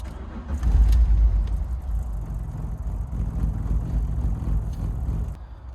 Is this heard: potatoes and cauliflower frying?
no